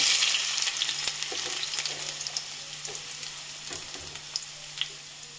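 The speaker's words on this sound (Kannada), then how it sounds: "ಕಾದ ಬಾಣಲಿಗೆ 5 ಸ್ಪೂನ್ ಎಣ್ಣೆ ಹಾಕ್ಬಿಟ್ಟು ನಾವು ಈಗ ಆನಿಯನ್ನ ಫಸ್ಟಿಗೆ ಹಾಕ್ತಾಯಿದ್ದೀವಿ" Onions sizzle in a heated pan with about five spoons of oil, a steady close hiss and crackle with small pops and light stirring scrapes, no voices.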